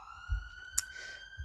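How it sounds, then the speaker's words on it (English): A siren sounds outside, a steady, fairly faint high tone that holds through the moment, with a few low thumps and a brief click nearby. "Sorry about the siren."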